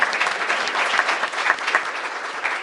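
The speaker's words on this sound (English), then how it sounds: "can we give the children a hand of applause?" Audience applause for children at a public meeting, a lively burst of many hands clapping with uneven bright peaks, close and fairly loud, no speech heard.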